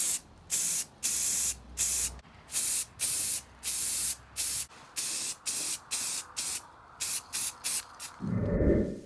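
Flat black spray paint hisses from an aerosol can onto a part of an off-road mower in short bursts, roughly a dozen close spurts with brief gaps between them.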